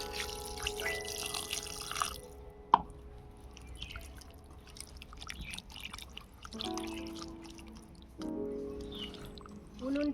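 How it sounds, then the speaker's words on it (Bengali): Water poured into a pot while cooking small bata fish, a faint gurgling trickle with a sharp clink partway through and soft background hum. "এবারে দিয়ে দেব পরিমাণ মতো জল।"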